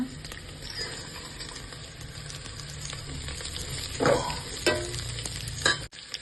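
Legumes tipped into a pan of fried onions for a village-style Molke Kaalu Saaru sizzle steadily, with a few scrapes and stirring knocks of a spoon on top.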